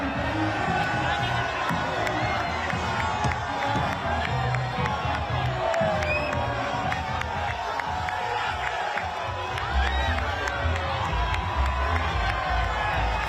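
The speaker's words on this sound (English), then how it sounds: "If you have a look at the crowds, they are lining the streets." Dense crowds lining the streets at an Arsenal Premier League trophy parade cheer and shout continuously, with children's yells and whoops in a steady, loud roar throughout.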